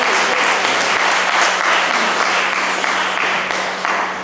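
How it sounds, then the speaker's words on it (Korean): Wedding guests in the Gardenia Hall at Merida Wedding Convention applaud after the bride places the ring on the groom, a loud, dense, continuous round of clapping that eases slightly toward the end. "박수 부탁드리겠습니다."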